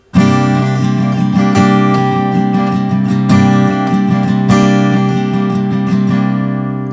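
Acoustic guitar strumming a steady, accented connector rhythm, close and loud, sustained chords with rhythmic percussive strokes throughout, no voice.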